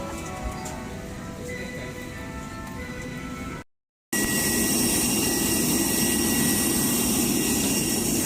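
Jet engine roar of an airliner just after landing at Tacloban City, a steady loud broadband rumble with a brief gap midway, then louder and closer continuing without talk.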